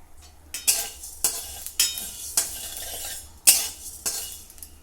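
Mustard seeds dry-roasting in a hot pan for kasundi snap and pop in sharp, separate bursts roughly every half second. The pops sound close and bright, with light scraping and clinking between them.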